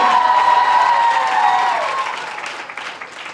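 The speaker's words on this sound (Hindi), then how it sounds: "जो हॉस्पिटल मुगीरा के लिए जोरदार तालियां बजाएंगे, प्रेज़ शाउट करेंगे डैडी मुगीरा के लिए।" A church congregation applauds and cheers loudly for an offering, a dense sustained roar of clapping and shouts with a held vocal tone, fading toward the end.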